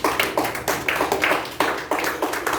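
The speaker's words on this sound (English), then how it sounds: "let's just give them a round of applause for this splendiferous speech" An audience at a youth leadership program session applauds table topic speakers, a brief burst of many hands clapping in a dense, lively patter that stays steady and fairly close for a few seconds.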